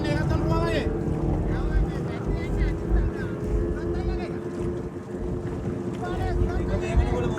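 Boat engines drone continuously at a boat race in Wennappuwa, Ulhitiyawa, Sri Lanka, a loud sustained roar with wind buffeting the microphone, while people talk and shout in the crowd.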